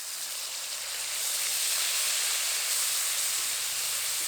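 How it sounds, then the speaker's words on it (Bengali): Onion paste drops into hot oil left from frying fish and gives off a steady, loud hissing sizzle that swells and then holds evenly, with no talk over it. "মাছ ভাজা তেলের মধ্যে দিয়ে দেবো পেঁয়াজ বাটা।"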